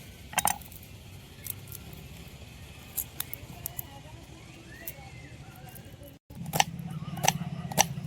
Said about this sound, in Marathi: एक कांदा घेतला, कांदा मस्त बारीक बारीक कापून घेऊ।